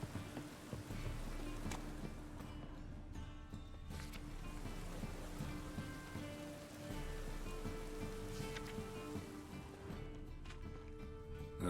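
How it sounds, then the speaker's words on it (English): Steady rain patters across the scene in the video game The Witcher 3, with a continuous wash of droplets, layered over low ambient hum and occasional soft tones. "Looks like rain."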